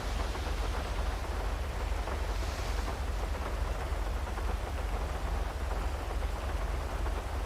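Steady rain falling outside during a city police patrol drive, a constant even hiss with no breaks and no talk.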